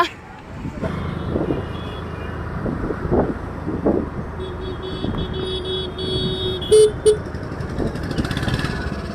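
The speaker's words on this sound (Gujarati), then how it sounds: "એક્ટિવા લઈને આવવા જઈએ ઘેર" An Activa scooter rides through traffic with a steady engine drone and road noise, a short horn beep and another vehicle's beeps nearby, and people talking over it.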